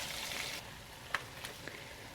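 Carrots frying in a pan with chicken for plov, a steady close sizzle that softens after a moment, broken by a few light clicks of a spatula stirring.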